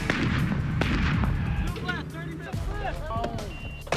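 Artillery guns boom during a gunnery training exercise, heavy low blasts and rumbling concussions with scattered sharper reports, while a narrator's voice runs over part of it.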